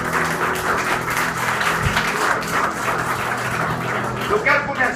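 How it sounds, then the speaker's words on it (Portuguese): A large church congregation applauds steadily and loudly, a dense wash of clapping with some voices mixed in. "Aplauda Jesus e pode se sentar, por favor."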